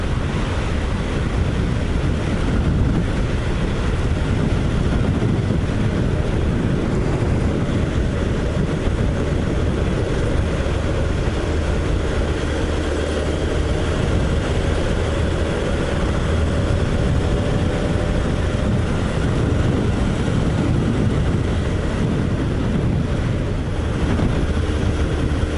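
Motorcycle ride through Wanganui, New Zealand, with a dense, constant roar of wind buffeting the microphone over a low engine drone, loud and unbroken for the whole stretch.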